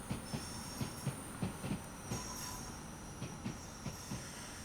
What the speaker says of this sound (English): so at least we'll see our train depart